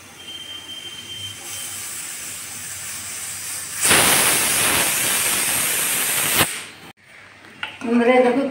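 A pressure cooker cooking masoor lentil dal with tomato and turmeric lets out a loud, steady rush of hissing steam for about two and a half seconds over a quieter hiss, then cuts off sharply before a voice speaks.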